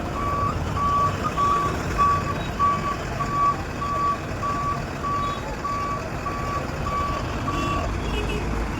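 A government ration truck sits in traffic at a road circle with a steady rumbling engine and a regular series of high reversing beeps for about eight seconds, loud and close under general street noise.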